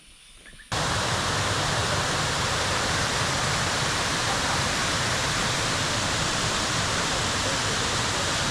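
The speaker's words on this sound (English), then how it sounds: "Waterfall has 7 levels." A seven-tier waterfall roars as a steady, loud broadband rush after a quieter opening moment, the continuous water noise filling the scene with no talk.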